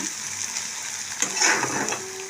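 Nigella seeds and green chillies fry in hot oil for a pomfret curry, giving a steady close sizzle that swells into a louder hiss midway as they are stirred.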